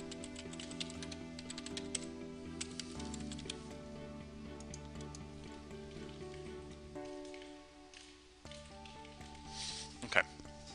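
Keys clack in quick irregular runs as a username and password are typed into Twitter on a computer keyboard, with a steady background hum throughout and a sharper burst of sound near the end.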